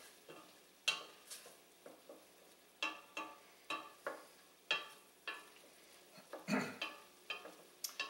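Vegan red beans cooking in a pot, with a spoon stirring through them in repeated scrapes about every half second to a second over a soft, steady sizzle, close and fairly quiet.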